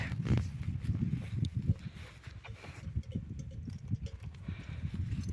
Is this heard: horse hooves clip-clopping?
yes